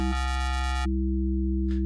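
A Korg microKORG 2 synthesizer oscillator switches from a buzzy saw wave to a pure sine wave, so a bright, harmonic-rich tone drops into a smooth, steady hollow drone over a constant low hum.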